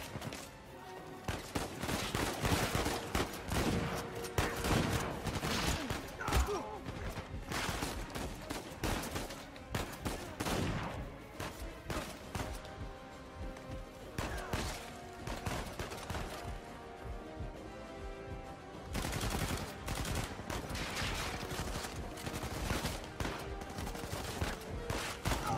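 Gunfire in an Uncharted 4 gunfight, with shotgun blasts in dense, nearly continuous bursts and loud impacts throughout, close and harsh, no voices.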